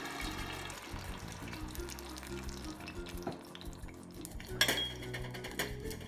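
Two 28-ounce cans of San Marzano tomatoes go into a skillet of hot olive oil and garlic on medium-high heat, with clinking metal, a soft pour and a low sizzle, then one sharp clank near the end.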